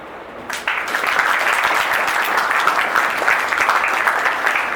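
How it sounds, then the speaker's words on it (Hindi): Students at a stress management workshop for Class X and XII clap together in a hall, a dense, steady round of applause that starts abruptly and carries on evenly throughout. "जरूर उनके लिए और खुद के लिए ताली बजाओ"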